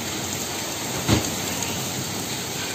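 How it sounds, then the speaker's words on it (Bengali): Steady rain mixed with hail pours down in a storm, a dense even hiss that holds throughout, with one brief louder thud near the middle and no voices. "শিলাবৃষ্টি হচ্ছে আবার"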